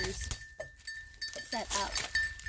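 Goats bleat in an outdoor goat pen at a small farm, brief calls mixed in under steady nearby talking.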